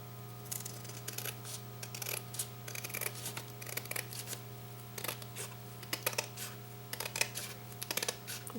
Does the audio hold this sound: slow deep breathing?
no